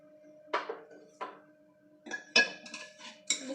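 Cooked gosht palak, spinach and tender mutton, is served from the pot onto a plate with a few sharp metallic clinks and scrapes of a spoon against the cookware, spaced apart at first and then coming in quicker clusters.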